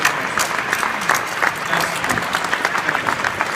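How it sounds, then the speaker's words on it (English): Loud, dense applause from an evening audience honoring the NFL commissioner, sustained and even throughout with a crowd-filled texture. "we owe Roger a real round of applause for being here this evening"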